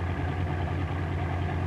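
A Grumman TBF Avenger's radial piston engine runs steady and close. It is a dense, continuous low drone with an even rumble and no pauses, and no one speaks.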